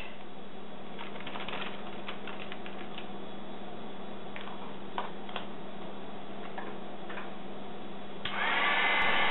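A heat tool warms embossing powder and ink on a stamped card, giving a steady low hum with scattered light ticks and taps, then a louder blowing rush in the final second.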